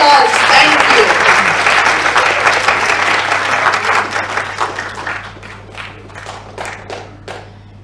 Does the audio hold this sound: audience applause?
yes